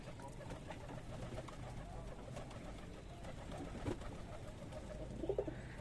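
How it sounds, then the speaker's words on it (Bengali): Pigeons cooing softly in a pigeon loft near Sona Masjid in Shibganj, Chapainawabganj, a steady low murmur of several birds with a couple of closer coos toward the end. "দেখেন এখানে বাজি করবে কবুতরটা"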